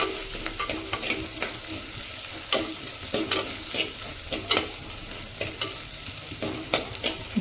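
Chopped capsicum frying for capsicum bath, a soft steady sizzle broken by repeated scraping strokes of a spoon stirring in the pan, close and fairly quiet.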